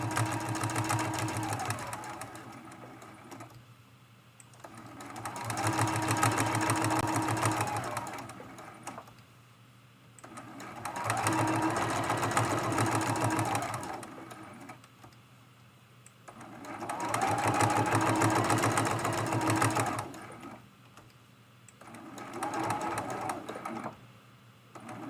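A sewing machine stitches a hexagon-patterned mug rug in bursts of rapid, even whirring, three long runs and a shorter one separated by quiet pauses, close and alone.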